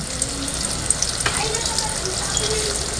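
Cooking oil is poured into a pan for bagoong alamang, giving a steady, close hiss with a few small crackles and no talking over it.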